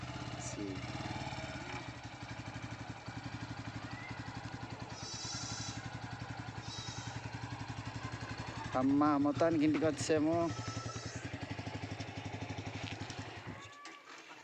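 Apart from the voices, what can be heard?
new Pulsar N150 motorcycle engine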